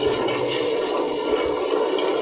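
Water pours steadily over soaked lentils being washed in a kitchen for making garelu, a continuous close rushing splash with no pauses and no talk.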